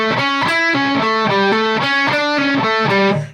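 A distorted electric guitar plays a fast, continuous Mixolydian lick sequence over a dominant, notes picked in quick even succession, loud and close with no talking.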